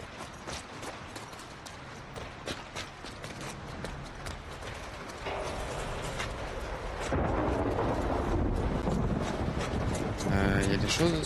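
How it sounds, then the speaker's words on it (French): Thunderstorm in The Last of Us Part II video game, with rain and low rolling rumbles that swell louder in the second half, mixed with footsteps and gameplay sounds at moderate level. "Plus fort l'orage s'il vous plaît."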